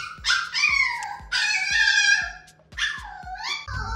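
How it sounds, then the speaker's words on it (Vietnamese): A puppy that needs to relieve itself whines and yelps in high, drawn-out cries, close by, in repeated bursts over a few seconds. Faint ticking sounds run underneath. "Như vậy là bé cún kêu về bé cún đang mắc đi vệ sinh."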